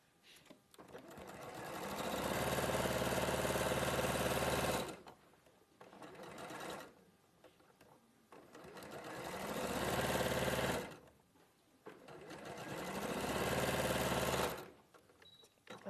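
A sewing machine chain piecing fabric runs in three long steady bursts of fast, even stitching, each lasting a few seconds. Short quiet gaps separate the bursts, and the motor hum sits close and clear.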